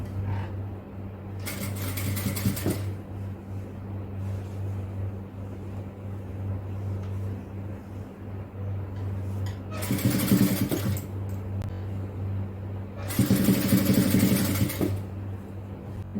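A sewing machine stitching gathered fabric runs in three short bursts of rapid whirring, close and fairly loud, separated by quieter pauses with a low background hum.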